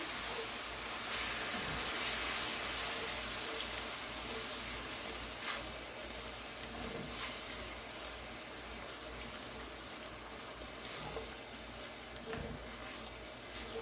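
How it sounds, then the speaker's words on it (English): Beef broth poured and stirred into hamburger steak gravy in a pan, a soft steady sizzle and watery bubbling with faint scraping, fairly quiet throughout. "we're going to add in our beef broth here. Got about a cup, and we're just going to put some in here, stir it around"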